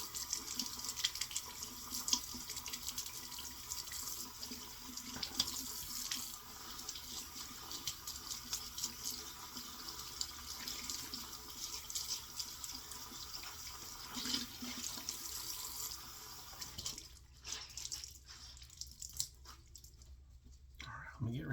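A bathroom tap runs steadily as someone rinses off after shaving, a continuous close hiss of flowing water that briefly drops away near the end, with low murmured speech underneath.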